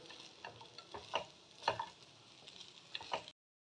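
Chira pulao with nuts mixed in is stirred in a pan: quiet scraping and clinking strokes in an irregular rhythm over a faint sizzle, close, ending abruptly in silence.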